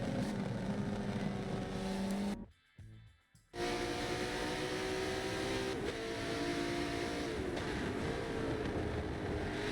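Race cars in a sim racing game during a 12-hour Silverstone endurance race, engines droning steadily with a brief drop to near silence, then whining revs as cars pass at speed.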